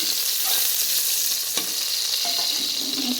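Onions fry in hot oil for a Tamil-style thillai crab curry, giving a loud, close, steady sizzle with occasional scraping stirs of a spoon in the pan.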